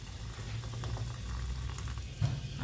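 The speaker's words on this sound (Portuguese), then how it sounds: "Agora, só ferver um pouquinho, não precisa cozinhar muito, né?" A pot of sautéed vegetables for a simple Japanese-style lunch simmers in water with a soft, steady bubbling, faint and close, with no one talking.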